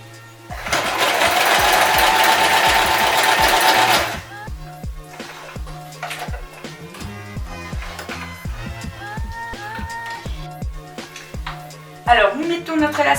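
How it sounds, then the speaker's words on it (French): Sewing machine running a zigzag stitch to hold elastic on a fabric face mask, a loud continuous whirring burst up front, then slower rhythmic individual stitch clunks, close and clear, with a short final burst. "Et à la machine à coudre, Pour le maintenir, nous allons faire un point zigzag."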